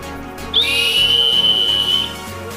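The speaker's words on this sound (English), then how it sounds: "we have the emergency whistle. So simple stainless steel, and you just blow through this end here." A simple stainless steel emergency whistle is blown once, a sharp piercing tone held steadily for about a second and a half before cutting off, loud and close in an indoor room.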